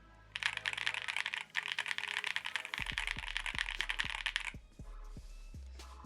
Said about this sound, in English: Here, just so you guys have an idea of what mine sounds like.